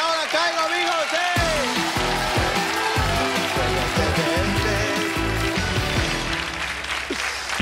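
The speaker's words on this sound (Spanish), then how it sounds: "Y seguimos aplaudiendo" A studio audience on the Spanish TV game show Ahora Caigo applauds in a dense, continuous patter, mixed with loud music stings and show sounds throughout.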